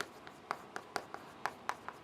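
A teacher writes on a board in a classroom lecture, producing a quick series of light tapping and scratching strokes in an uneven rhythm, faint and close, with no speech.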